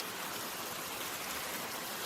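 Steady, hissing rainfall pours continuously, a soft broadband wash with no voices or other sounds.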